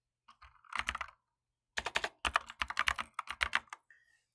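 Rapid keystrokes on a computer keyboard while spreadsheet conditions are entered: a short burst of clicks, a pause, then a longer dense run of typing, close and clear with no voices.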